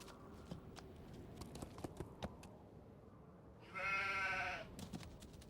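Soft clicking and clopping steps in a video game, then a single loud, buzzy sheep bleat rises near the end, followed by more light clatter.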